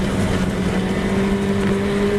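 Historic Formula Ford race cars racing at Silverstone in 2014, a continuous engine drone with a steady buzzing pitch, heard from trackside at moderate distance with no voices.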